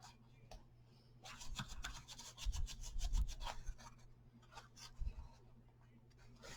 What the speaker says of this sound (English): I'm just kind of rubbing it on the inside too